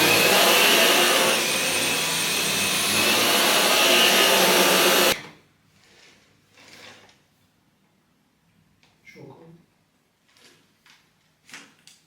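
A household vacuum cleaner roars loudly and steadily at close range for about five seconds, then cuts off abruptly, leaving quiet room tone with a few soft knocks and bumps.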